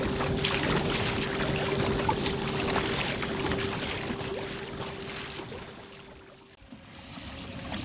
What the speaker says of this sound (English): Currently motoring out to my first spot where I want to start day 2 here